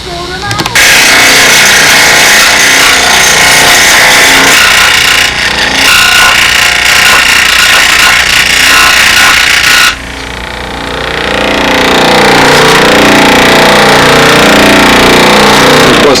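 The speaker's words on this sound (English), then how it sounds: "I want to lay out the actual shape of the flap and then cut it out on the scroll saw" Scroll saw cutting out a carbon fiber wing flap, a loud, continuous buzzing rasp that runs almost nonstop, dips briefly midway, then drops and swells back as the blade works through the sheet.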